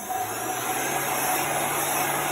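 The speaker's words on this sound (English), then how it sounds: "we're going to dry this with our heat gun" A heat gun drying chalk paint blows a steady, loud whooshing roar with a constant high whine, running evenly throughout with no talk.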